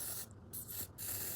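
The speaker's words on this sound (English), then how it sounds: "I'm gonna first like spray it on my edges" A hair product is sprayed onto the edges in three short hissing bursts close to the microphone, separated by brief pauses, with no talking.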